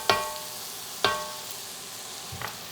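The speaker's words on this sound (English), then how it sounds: "Give it a quick stir with a green spatula just to coat the peppers and onions." A green spatula stirs chopped peppers and onions in a pot, giving two sharp scraping clinks about a second apart and a softer knock near the end, with a faint sizzle underneath.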